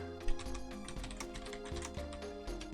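Rapid clicking of fingers typing on a computer keyboard, close and fairly quiet, running in irregular bursts over a steady layer of tonal background sound.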